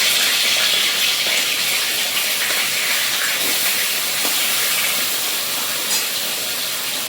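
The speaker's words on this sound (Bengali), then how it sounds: "আমি মাছগুলোকে হালকা করে ভেজে নেব।" A loud, continuous frying hiss with occasional pops, katla fish sizzling in hot mustard oil in a kadai, steady throughout with no voices.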